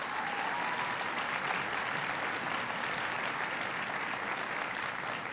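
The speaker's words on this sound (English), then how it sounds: "Please give him a big round of applause." An audience at President Obama's Milwaukee speech on the Affordable Care Act breaks into steady, even applause, a dense continuous patter of many hands at moderate volume with no voices standing out.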